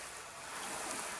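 Water rinses in a steady, broadband rush over a waxed car fender outdoors, loud and continuous with no talking.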